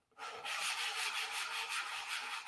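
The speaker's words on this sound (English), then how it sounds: "For a good finish, this is very important, to sand the paper." Rhythmic back-and-forth rasping of sandpaper rubbed by hand over the doped wing fillets of a P-47 model, steady strokes close up, with no voices.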